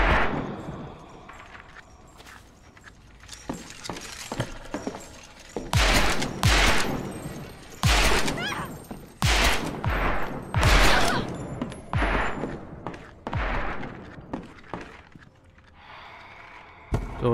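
Heavy gunfire in the video game Perception comes as a series of loud, sharp, closely spaced shots and bursts, some rapid like fusillades, separated by short gaps and set against quieter background sound.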